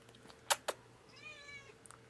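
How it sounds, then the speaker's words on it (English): A domestic cat meows, a drawn-out tonal call at close range, after two sharp knocks, with a faint chirp at the end, quiet room, no talking. "You hear the cat meowing?"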